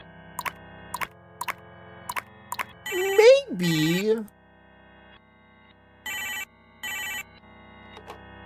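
A telephone rings in the video game Lacey's Ward, with several short separate bursts of ringing spaced through the clip, close and clear, while someone talks over part of it.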